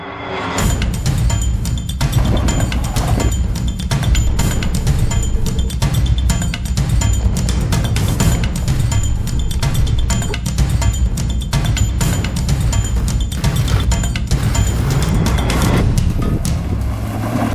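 A Suzuki Jimny is on the move, with constant loud road and wind roar and engine drone, dotted with rattling clicks and a faint high whine throughout.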